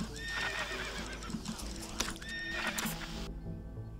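A horse in the video game Sheltered neighs with rising, wavering whinnies over clip-clopping hooves, loud and repeated across the span before cutting off near the end.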